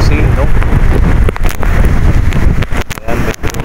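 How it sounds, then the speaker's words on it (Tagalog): Strong wind buffets the microphone in loud, close gusts with rough rumbling bursts throughout, in an open outdoor area in the Bicol countryside. "medyo malakot yung hangin"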